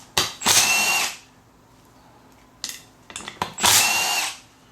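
A power tool spins off 1/2-inch bolts from a mud-caked 32RH (904) transmission pump, with two loud, sustained bursts of whirring separated by quieter clicks and clunks of handling, close up and with no talk.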